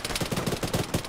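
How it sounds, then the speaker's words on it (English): Rapid automatic gunfire in a military video game, a close, steady stream of sharp bursts with even rhythm across the short stretch, no talk. "They're shooting all around me."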